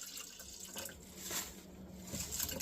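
Zero-sugar Canada Dry soda, partly frozen, pours steadily into a cup, a soft close fizzing splash that runs without a break.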